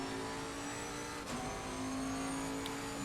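Bentley GT3 race car in Assetto Corsa Competizione at Kyalami during a league race: a loud, steady engine drone held at high revs, with a faint shift in pitch partway through.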